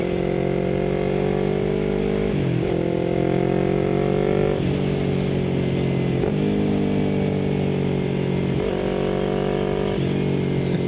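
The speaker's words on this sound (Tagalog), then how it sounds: "Hindi siya yung conventional na parallel twin. No, ganda ng tunog." A Yamaha R3 V2 motorcycle's parallel-twin engine runs at high RPM while riding, its loud steady drone rising and dipping with several gear shifts and no talk over it.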